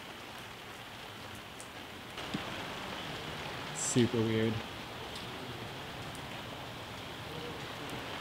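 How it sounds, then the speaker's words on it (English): Steady rain hisses softly in the background in Los Angeles, with a brief spoken comment partway through. "It's raining in LA."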